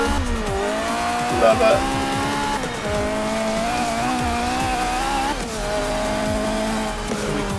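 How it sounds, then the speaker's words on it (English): Renault Clio Williams driving in the Forza 7 video game, with a steady engine drone, tire squeal and exhaust pops running throughout, while someone talks briefly over it. "Oh, and the pops out of that exhaust."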